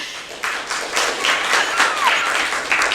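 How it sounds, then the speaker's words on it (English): Audience applause at a Seattle immigration policy community meeting, a steady, fairly loud wash of many hands clapping close by. "Give her a round of applause for her dual hats that she wears"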